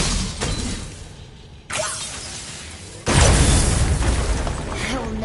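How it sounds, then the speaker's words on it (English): Video-game objects shattering, with a sudden crash near two seconds and a second, louder, sustained breaking burst at three seconds, followed by ongoing crackling and debris noise, close and loud. "I will never get tired of shattering things with this"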